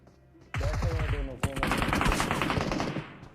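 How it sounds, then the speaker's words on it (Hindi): SCAR-L assault rifle fire in a battle royale video game, a loud, sustained stream of rapid automatic shots with a brief break partway through before the firing resumes. "पीछे से अलग ही स्कारल से फायर आया मेरे पे"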